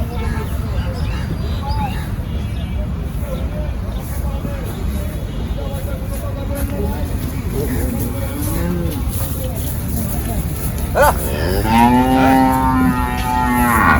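Cattle lowing at a crowded livestock market in Ashulia near Dhaka, with a loud, long moo near the end rising above steady crowd babble and traffic rumble, while people talk throughout.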